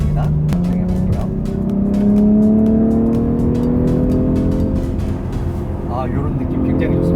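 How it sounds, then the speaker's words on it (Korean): A BMW X3 M accelerates in M2 mode, its engine note rising steadily as a loud in-cabin drone with road rumble, while someone talks over it. "자, 이제 M2 모드를 눌러서 주행을 해보도록 하겠습니다"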